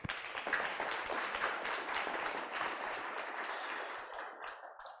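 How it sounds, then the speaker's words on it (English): After a talk at a small web design meetup in Bangkok, the audience claps in a brisk burst that stays even for a few seconds, then thins and fades away at the end. "Big applause for Mr. Andre."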